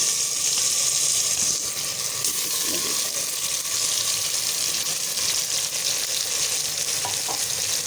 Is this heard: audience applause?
no